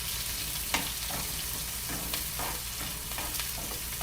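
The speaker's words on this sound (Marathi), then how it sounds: "आता मी हा कांदा टाकते. आणि कांदा चांगला ढवळून घेते." Chopped onion sizzles in hot oil in a pan while being stirred for a ghevda vegetable dish, a close, continuous frying hiss broken by scraping spoon strokes.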